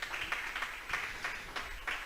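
A church congregation applauds for God with faint, distant clapping in rhythmic bursts over a quiet background.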